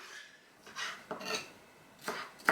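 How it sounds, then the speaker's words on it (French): A knife cuts a bell pepper on a board for homemade ratatouille, making a few scattered scraping, clacking cuts spaced unevenly across the moment, fairly quiet and close, with a sharper knock at the very end and no talking. "vous allez commencer par tailler votre poivron"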